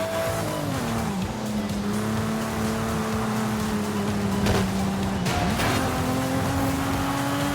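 A Toyota Supra's engine drones steadily in Forza Horizon 5, its pitch climbing and dropping through a couple of gear shifts, with brief tire noise mixed in.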